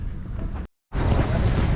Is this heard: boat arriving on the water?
yes